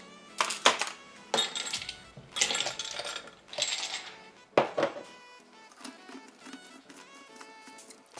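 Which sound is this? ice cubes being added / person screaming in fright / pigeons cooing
ice cubes being added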